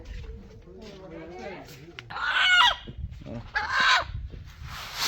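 A chicken squawks and clucks in two loud bursts close by on a river island in northern Bangladesh, while people talk before and between the calls.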